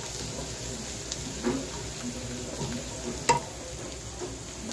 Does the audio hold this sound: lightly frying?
yes